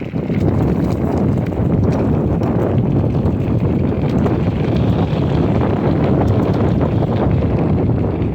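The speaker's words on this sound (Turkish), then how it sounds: "Şu rüzgara bir çözüm bulacağız yani zamanla." Strong wind buffets the microphone in a constant, loud, low roar that never lets up.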